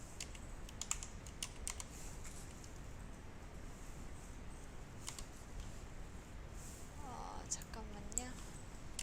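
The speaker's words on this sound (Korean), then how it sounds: "키보드에서 티귿의 한자키 한번 눌러볼게요" Computer keyboard keys pressed in a quiet room, including the Korean Hanja key, with soft scattered clicks at a low level and brief talk near the end.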